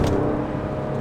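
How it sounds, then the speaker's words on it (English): Porsche 911 (996) Carrera 4S Cabriolet from 2004, its flat-six engine held at steady high revs in third gear, a loud, close, continuous engine note with no talk over it. "Let's just rev it out a little bit."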